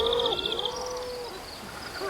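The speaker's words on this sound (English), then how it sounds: "God, I love the bird sounds and the forest sounds." Forest ambience in the video game Ancestors: The Humankind Odyssey, with clear whistling and hooting bird calls over a soft background bed and a few faint voice-like sounds.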